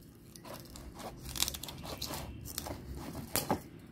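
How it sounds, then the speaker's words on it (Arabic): Tupperware kitchen shears snip through a chicken thigh bone in a series of sharp, quiet crunches spaced irregularly, each a brief crack with small crackles between. "اهو يا جماعة قص العظم الفرخة"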